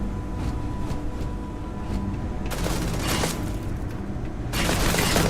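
A legendary two-shot weapon fires loudly in a Starfield space game, with a burst of rapid gunshots and booms that grows heavier and denser toward the end, with no talk over it.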